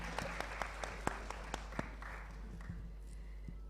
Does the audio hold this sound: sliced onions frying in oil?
no